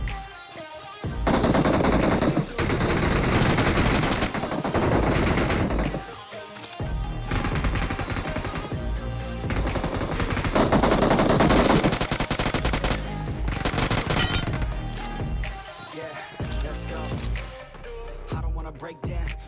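Loud, rapid bursts of automatic gunfire in the mobile battle royale game PUBG Mobile, dense machine-gun volleys separated by brief pauses over nearly twenty seconds, with no talk.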